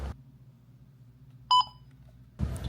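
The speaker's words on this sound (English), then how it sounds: "every single time you turn the camera on or off, it made this super loud beeping sound" A short, loud electronic beep from a Camp Snap camera powering on or off, a bright tonal chirp in the middle of a quiet room, heard once, with brief handling noise at the start and end.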